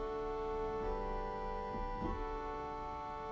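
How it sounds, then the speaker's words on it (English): A pipe organ's celeste rank sustains a chord with a thin, shimmering string-like tone, holding steadily throughout, soft and reverberant, with no talking. "we have its partner rank, the celeste, which sounds like this on its own"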